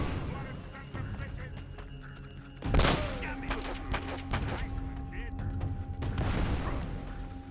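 Gunfire in Uncharted: Drake's Fortune: scattered shots and bursts at moderate distance, with a louder blast near the start and another later, mixed with a talking voice.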